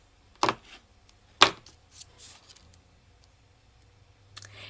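Two sharp snips of scissors through paper card, close and fairly quiet, with a softer rustle of paper handling between them and a faint clip near the end.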